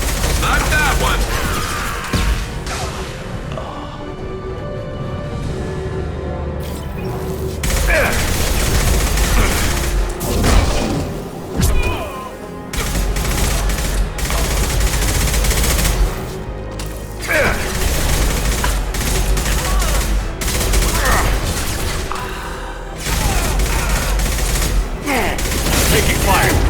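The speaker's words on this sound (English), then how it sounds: "Taking fire." Gunfire in Mass Effect 2 during a firefight: loud bursts of rapid automatic shots and mechanical weapon clatter come in waves, with short lulls between volleys, under occasional voices.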